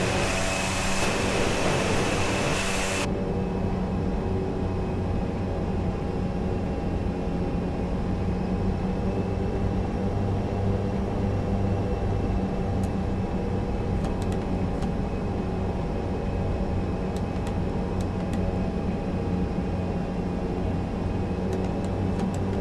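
An Aer Lingus airliner taxiing to its gate in Microsoft Flight Simulator, with a steady, loud engine drone and hum that holds evenly throughout and a broadband rush that drops away after the first few seconds.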